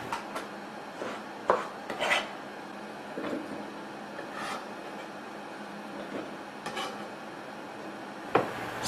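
Mango pieces are chopped and dropped into a food processor in a kitchen: scattered soft knocks, scrapes and light clatters of fruit and container, fairly quiet, with one sharper knock near the end.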